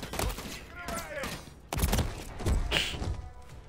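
Loud rattling bursts of gunfire with heavy thuds in a Call of Duty Modern Warfare 3 campaign battle, dense and continuous across the whole stretch, with voices speaking under the shooting.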